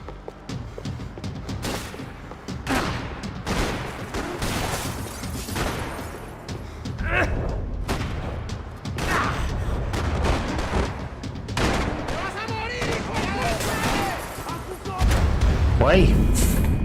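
Shotgun blasts and other gunfire from the Max Payne 3 video game, several loud heavy shots scattered through the stretch with a louder boom near the end, mixed with continuous game noise and someone talking.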